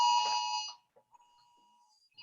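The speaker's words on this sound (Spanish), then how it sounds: "Las alarmas sonando" An alarm sounds loudly with a harsh, buzzing electronic tone for under a second, then drops to quiet with faint leftover beeps and another burst starting at the end.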